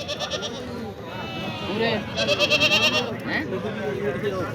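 Goats bleat several times amid a busy crowd at a goat market, with people talking loudly nearby throughout.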